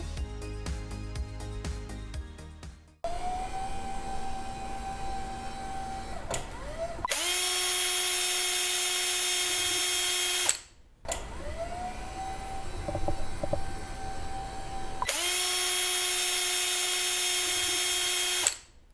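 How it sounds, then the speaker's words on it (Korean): The dual electric motors of a Cooler Master GD160 standing desk hum steadily in two long runs, each shifting into a louder, brighter whir before cutting off with a clunk. "세 번째, 듀얼 모터입니다. 소음 적고"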